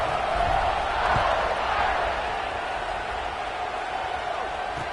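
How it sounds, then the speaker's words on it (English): A stadium crowd in a college football video game, Michigan at Notre Dame, roars as one steady, loud wash of cheering that holds throughout with no clear breaks. "this crowd is feeling themselves after that last drive"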